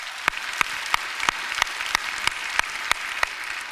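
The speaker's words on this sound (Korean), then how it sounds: "우리 하나님께 영광의 박수 한번 돌릴까요?" A church congregation clapping during a Friday prayer service, a bed of crowd applause with sharp, evenly spaced rhythmic claps standing out on top, loud and close.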